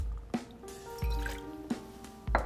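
Non-alcoholic Sea Arch gin alternative poured for a Nogroni, a short liquid splash and drip with a few soft thuds, close and moderately quiet, with no talking.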